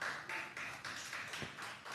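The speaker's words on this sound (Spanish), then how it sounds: "dale un aplauso al Señor." A church congregation claps in a quiet, steady patter for about two seconds, with soft pulses of hand claps and no talking over it.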